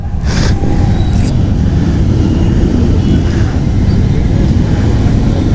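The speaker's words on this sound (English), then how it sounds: "okay अभी Harley का entry हो रहा है" A Harley-Davidson motorcycle arrives at a group ride event in Bangalore, its loud, steady engine rumble filling the whole stretch with a constant low drone.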